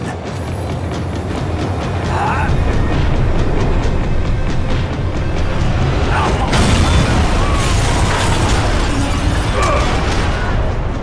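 A tram in the video game Max Payne 3 rumbles along steadily, a loud continuous mechanical roar with rattling and clanking, swelling into a heavy boom partway through, with no talking.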